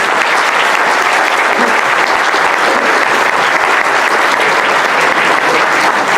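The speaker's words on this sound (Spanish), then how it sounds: "Que sea más fuerte el aplauso para el contador." Loud, sustained applause from a seated audience in a lecture hall on accountancy and auditing, steady dense clapping that runs throughout without any talking over it.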